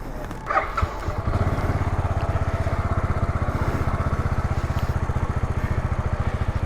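Motorcycle engine running steadily with a rapid, even pulsing exhaust throb, close and loud, while riding mountain twisties above Los Angeles near Dodger Stadium; a brief knock or bump comes near the start.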